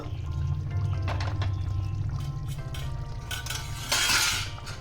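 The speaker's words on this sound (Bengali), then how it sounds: "ঢাকনাটা তুলে নেব" A cooking pot's lid is lifted with a brief metallic clink near the end, after steady kitchen clatter, while doi katla (carp in yogurt gravy) simmers on the stove.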